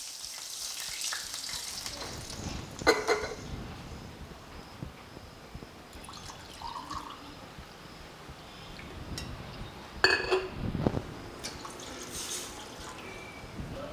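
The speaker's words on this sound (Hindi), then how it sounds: "2 छोटे ग्लास पानी डालेंगे।" Water goes into hot frying oil for a wheat-rice khichu, bringing a steady broad sizzle with sharp spattering bursts and a few clinks of the pan or utensil.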